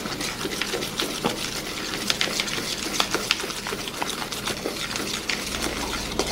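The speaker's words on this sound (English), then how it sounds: "Then you're going to mix it all together with a spoon." A spoon stirs a maple syrup mixture for vegan cinnamon rolls, giving a steady run of light scraping and clinking against the bowl at close range, with no talk.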